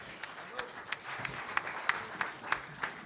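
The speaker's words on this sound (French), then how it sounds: "Oui, on les applaudit." A church congregation at a family Mass applauds its young people, with rhythmic, fairly quiet clapping in steady beats rising and falling in the room.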